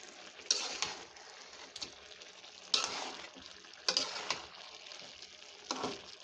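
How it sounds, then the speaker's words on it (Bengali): Chicken with chana dal and whole spices is stirred in a pan on a gas stove: quiet, intermittent spatula scrapes roughly every second or so over a faint low sizzle. "এখন এগুলো নাড়াচাড়া করে আমি মশলাটার সাথে মিক্সড করে দিচ্ছি"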